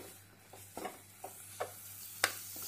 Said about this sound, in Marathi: मसाले छान तेलामध्ये परतून घ्यायचे